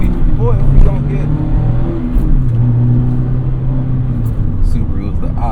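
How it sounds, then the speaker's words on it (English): A Subaru engine revs and accelerates hard with a low, steady rumble, heard while a person talks over it from inside a Mazda Miata. "There's this Subaru trying to take off on me."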